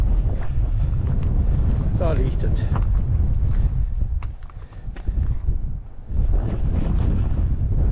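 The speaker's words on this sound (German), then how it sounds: "hier ist so windig" Strong wind buffets the microphone with a heavy low rumble throughout, briefly easing midway, while a person speaks a few words.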